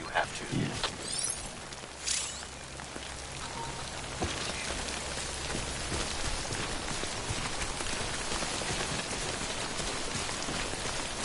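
Timefall rain in the video game Death Stranding pours steadily across the whole stretch, a dense even patter with a few louder knocks and creaks early on, no talking over it.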